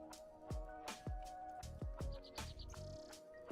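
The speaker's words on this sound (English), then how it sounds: "Those are loud birds." Loud birds chirp in a bright, repeated series of sharp calls, close and prominent, with a steady hum underneath and no talking.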